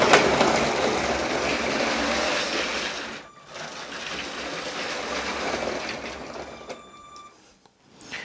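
A toy brick train runs around a city layout and through its station, giving a steady rattling, clacking rumble that dips briefly and then fades near the end.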